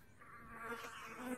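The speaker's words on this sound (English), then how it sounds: "Okay, we have a few wasps in here." Wasps buzz in the VR game Don't Let Go, a faint, thin, wavering drone that swells briefly and holds for a second or so.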